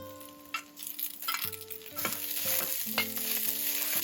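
Scallion and ginger shreds hit hot leftover oil in a pan while cooking a vegetarian tofu-skin dish, giving a bright, continuous sizzle with spatula stirring and scraping. No one speaks.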